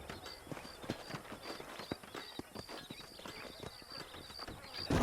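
Horse hooves clip-clopping in the Red Dead Redemption video game near Armadillo, a steady run of quick hoof strikes throughout with a faint background ambience.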